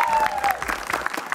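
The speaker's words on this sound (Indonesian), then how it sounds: "tepuk tangan buat kita semua" Studio audience applause at an Indonesian clown-themed stage show, a dense patter of clapping over the full moment with a faint steady tone and some crowd murmur underneath.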